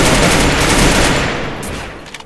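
Loud, dense bursts of rapid automatic gunfire fill a mobile battle royale game firefight, a continuous fusillade that tapers off near the end with a few trailing shots.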